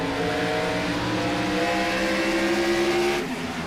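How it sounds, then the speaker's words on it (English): Race car engine revving hard with tire squeal as the #15 car spins its wheels on a restart and slides up the oval racetrack, a loud sustained roar with rising engine tones that cuts off near the end. "Oh, wheel spin for the 15. Knupp slides up the racetrack"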